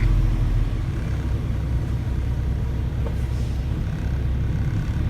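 Truck driving through a tunnel inside a mountain cave, its engine giving a low, steady rumble that echoes continuously, close and fairly loud.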